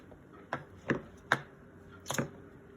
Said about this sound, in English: I like to cut them first because I have to rinse off the knife after I do this because of the yolk